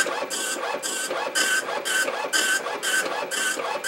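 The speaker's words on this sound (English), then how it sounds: "Just printing the startup sequence. Yeah, this thing's loud." Loud, buzzy bursts of a dot matrix printer head printing from an Amiga 1000, repeating in a steady rhythm about twice per second, close up and with no talking.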